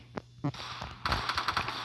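Gunfire from the Free Fire video game sounds as a few sharp shots followed by a quick burst of rapid fire, moderately quiet and close.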